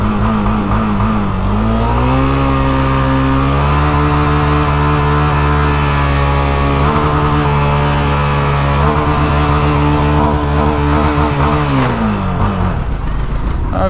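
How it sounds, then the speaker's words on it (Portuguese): A Honda CB Twister 300F motorcycle engine with no rear-view mirrors runs loud and close, holding a steady rumbling drone that rises, settles and then falls away near the end. "Olha o motor filme lançando os pipocos"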